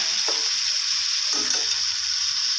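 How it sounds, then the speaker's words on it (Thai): Shrimp stir-fried with stink beans and shrimp paste give a loud, close, continuous sizzle, with two distinct spatula stirs scraping the pan and no talking. "ใส่กุ้งลงไป ใส่กุ้งลงไปผัดเลยนะครับ"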